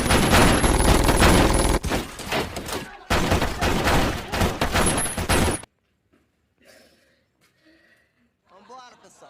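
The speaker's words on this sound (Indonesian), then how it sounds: "Lil Z pun memberondong rumah Knock dengan ratusan tembakan" Film gunfire, with hundreds of shots fired into a house, comes as loud, dense bursts in two long volleys before dropping to near silence with faint scattered sounds.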